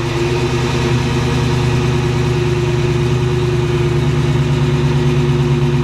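A 2014 Dodge Challenger R/T with a Hemi V8 idles close by, a steady deep rumble holding an even, loud drone throughout with no speech.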